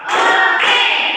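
Two quick claps from a class of pupils in rhythm, bright and close, run together into a dense burst with no voices.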